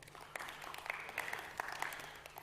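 Scattered applause rises from a conference audience, faint and brief, with sharp individual claps over a low steady hum.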